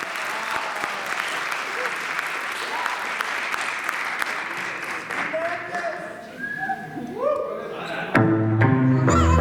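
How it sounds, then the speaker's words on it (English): Steady applause from a crowd at a high school soccer awards night fills the space, then fades as music and voices begin near the end. "give a round of applause for the boys"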